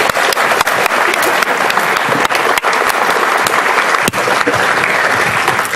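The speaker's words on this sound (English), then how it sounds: "I'd like to give a big round of applause to our current sponsors" Audience applause at an evening lightning talks event, a steady wash of many hands clapping throughout with a few sharp individual claps standing out, loud and close.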